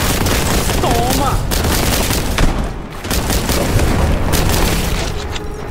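Continuous loud explosions and gunfire from the Warhammer 40k Boltgun video game, dense booming blasts and rapid shots filling the whole stretch with barely any pause.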